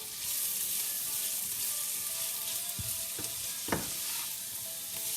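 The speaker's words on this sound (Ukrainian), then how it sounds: "І поки наша цибуля з морквою смажиться" Onion and carrot sizzle steadily in a hot pan, with a few brief scraping stirs near the end.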